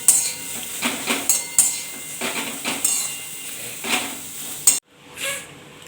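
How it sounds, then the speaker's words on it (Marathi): Cluster beans are dry-roasted in a pan without oil and turned with a utensil, giving repeated scraping, rustling strokes and occasional metallic clinks at a steady pace close by, then stopping abruptly near the end. "आपल्याला आधी फक्त बिना तेल टाकताच ही जी गवर आहे छान अशी परतून घ्यायची आहे"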